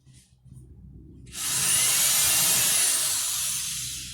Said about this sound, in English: So I take the drill and make sure it's really straight